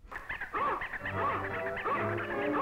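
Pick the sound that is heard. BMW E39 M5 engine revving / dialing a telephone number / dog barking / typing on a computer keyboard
dog barking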